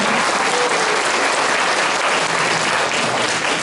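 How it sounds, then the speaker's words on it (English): A crowd at a festival press conference gives a loud, sustained round of applause, dense and even from start to finish with no break. "I want everybody to give her a big round of applause"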